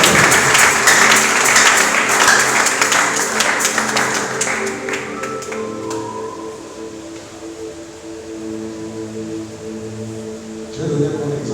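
A church congregation at a deliverance service bursts into loud applause, dense clapping that peaks early then gradually thins and fades, leaving a murmuring room tone before a brief swell near the end.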